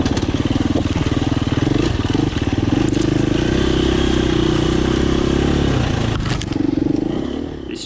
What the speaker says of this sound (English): obviously I'm riding my KTM 350 EXC, and I'm the only 4-stroke rider on this ride